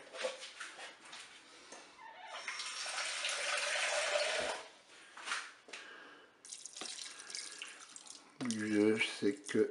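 Water pours into a Cookeo electric pressure cooker holding spaghetti and crumbled beef stock cube, a close, quiet splashing stream in bursts, with a dog whimpering faintly and a person talking briefly at the end.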